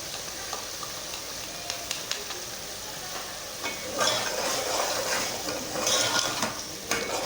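Onions fry in a pan with a steady close sizzle that swells louder partway through, punctuated by light scrapes and taps of a spoon stirring, with no voices.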